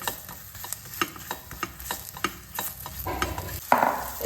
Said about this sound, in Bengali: এক পিঠ ভাজা হয়ে গেছে। এবার আমি উল্টাবো